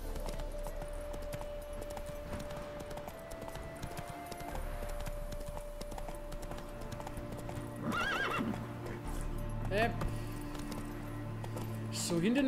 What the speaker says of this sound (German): Oh, das sind auch wieder Wildpferde.